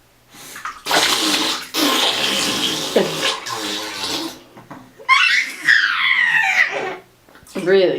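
A baby splashes and kicks in bathwater in a tub, with bursts of loud sloshing and splashing. A parent talks and the baby vocalizes between and over the splashes.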